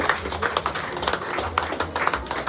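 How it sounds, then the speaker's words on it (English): Audience applause at a gospel music gathering: a steady wash of many hands clapping with scattered sharper individual claps, moderately loud and continuous, no voices over it. "let's give us all a rousing round of applause once more"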